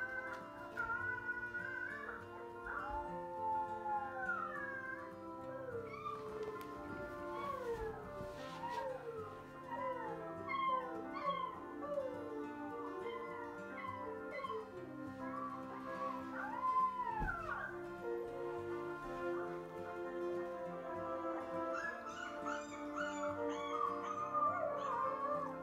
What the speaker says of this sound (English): Puppy's learning how to howl.